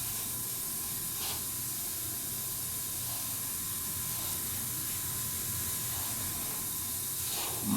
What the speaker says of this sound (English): Now I'm just blowing air on it to make sure it dries.